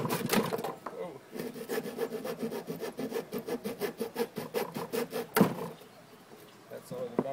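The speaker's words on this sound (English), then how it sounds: "handsaw to clean it up" A handsaw cuts through a wooden roof rafter in steady, rapid back-and-forth strokes, close and fairly loud. A sharp crack comes as the piece breaks free near the end, followed by quieter handling noise.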